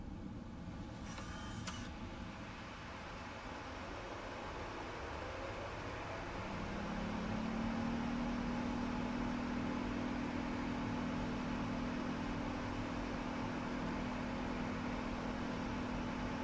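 Thrust reversers engaging on a PMDG 777-200ER airliner in Microsoft Flight Simulator, a steady broadband roar that swells after several seconds into a sustained, louder whooshing rumble with a rising tone, heard alone without talk.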